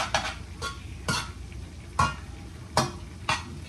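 Butter stirred into pasta in a pan, heard as five or six soft scraping strokes at an irregular rhythm over a faint sizzling hiss, close and fairly quiet.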